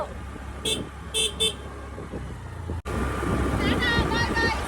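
A scooter horn gives three short, loud beeps close by, then road noise and people talking take over.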